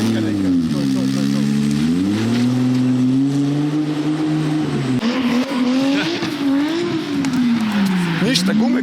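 A drift car revving hard with tires burning, its engine note rising and falling in long loud sweeps over hissing tire squeal, close by, with voices talking over it.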